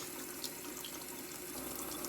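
Kitchen sink tap running steadily, a continuous close water stream with no talk over it.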